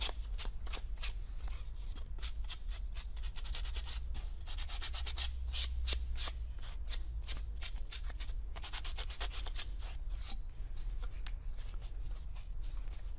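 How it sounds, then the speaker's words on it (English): A sanding sponge rubs back and forth over a wooden marquetry piece in quick, even strokes, a close, steady scratchy rasp repeating throughout over a low background hum. "Give a quick pass with a sanding sponge just to knock any fuzzies away."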